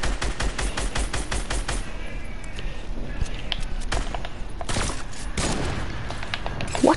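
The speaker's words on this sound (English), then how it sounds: "My game glitching. It auto shooting." A gun in a glitching video game fires on its own in rapid automatic bursts, loud and nearly continuous, with a few brief pauses between volleys.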